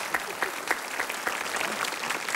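Studio audience applauding on a Swedish television tribute show, a short burst of steady crowd clapping with some individual claps standing out close by.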